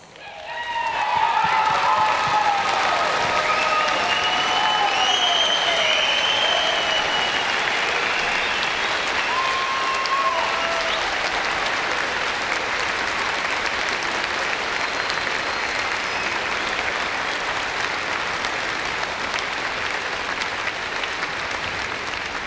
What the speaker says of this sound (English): please stand and honor them with a round of applause